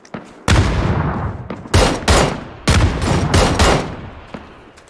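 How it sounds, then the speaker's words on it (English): Gunfire in PUBG: several loud, sharp bursts of shots in quick succession, each echoing and decaying, close and dominant with no talking. "I think he's getting shot at."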